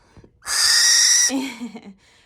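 An imprinted barn owl gives a long, harsh, hissing screech lasting nearly a second, loud and close, followed by softer chittering calls trailing off.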